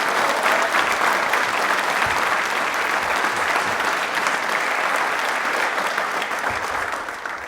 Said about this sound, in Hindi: तालियां जोरों से होनी चाहिए इसके लिए।